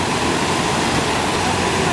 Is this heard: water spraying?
yes